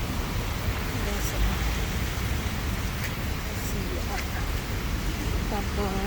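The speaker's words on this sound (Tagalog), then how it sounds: "Medyo umuulan na lang kasi." Light rain falls steadily in an outdoor park, a constant soft hiss spread evenly throughout, with faint scattered chirps in the background.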